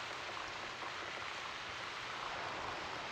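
Rain ambience in an indie game's world map: a steady, dense wash of falling rain with soft spattering, continuous and even, with no voices.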